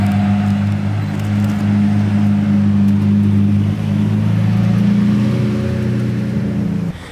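Lamborghini Aventador SV supercar engine held at a loud, steady high rev for about seven seconds, a deep sustained roar close by that drops off sharply at the very end.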